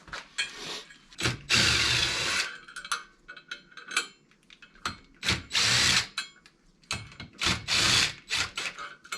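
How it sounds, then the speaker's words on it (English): A power tool spins out the clutch cover bolts on a CFMoto CFORCE 800 ATV, giving loud, close, repeated whirring bursts of varying length with short gaps between them. "we have to remove these 3 bolts in order to pull the top of the clutch plate off"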